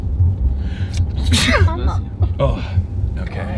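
A single sharp sneeze bursts out close to the microphone during casual conversation, with talking just before and after it.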